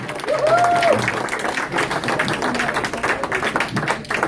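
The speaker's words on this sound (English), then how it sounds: "Please give a round of applause for Robin Vidston and the Remembrance Projec" Audience applause at a Beach Cities Republicans meeting, steady clapping from a room full of people lasting several seconds, with a brief whoop or voice rising over it near the start.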